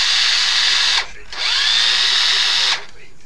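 Makita cordless drill running on a tested battery: two bursts of a steady high motor whine, the first about a second long, then a brief stop and a longer second run, loud and close.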